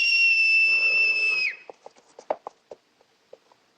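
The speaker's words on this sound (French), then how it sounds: "Pour quelle raison sifflez-vous votre cheval?" A loud, steady two-tone whistle holds for over a second and cuts off, followed by a scatter of light taps and clicks.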